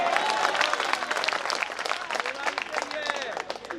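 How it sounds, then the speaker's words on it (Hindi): An audience at an All India Mushaira poetry gathering in Maudaha, Hamirpur bursts into loud, dense applause, many hands clapping continuously close by, with a voice speaking over the clapping. "तो जोरदार ताली बजाइए।"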